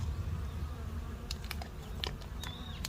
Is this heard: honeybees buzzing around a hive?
yes